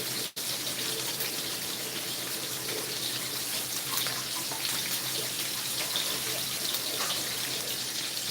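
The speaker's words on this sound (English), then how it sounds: "So let's rinse this off again." Tap water runs steadily over a wooden platter being rinsed in a kitchen sink, a close, continuous hissing splash that lasts throughout after a brief dip at the start, with no talking.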